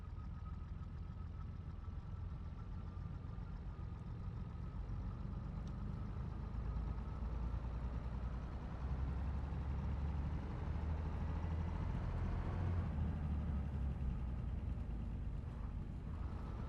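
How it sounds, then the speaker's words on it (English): A Class 142 diesel multiple unit's engine in Train Simulator Classic, heard from the passenger view as a steady low drone with rumble that rises slightly partway through, continuous and without talk. "passenger view, just so you can hear the engine noise in there."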